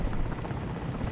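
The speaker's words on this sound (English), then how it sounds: "with this helicopter I always go high." An Mi-8AMTSh helicopter flies in the War Thunder video game with a steady, loud rotor and engine drone. The sound holds at one level throughout, with no talk over it.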